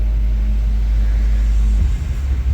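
Subwoofer bass booms inside a Chevy Silverado pickup, a loud, deep rumbling low-end throb with a sustained tone that drops off near the end, heard close and without voices.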